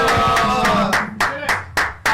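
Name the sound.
studio audience clapping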